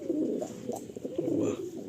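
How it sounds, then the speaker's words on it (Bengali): Pigeons in a loft holding about 70–80 birds, soft low cooing repeating in overlapping bursts close by, steady throughout with no talking. "দাদার লফটে তো পায়রা প্রায় 70-80 পিস সেলে আছে"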